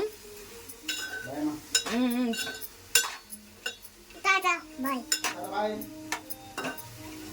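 Tomato curry stirred in a pan with a metal spoon, scattered scrapes and clinks against the cookware under intermittent talk, including a voice.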